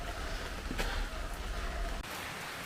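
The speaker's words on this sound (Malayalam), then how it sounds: "ഇന്നും ഇപ്പം മഴ" Steady rain falling outside during an overnight downpour, a dense, even hiss with a couple of brief sharper drips over it.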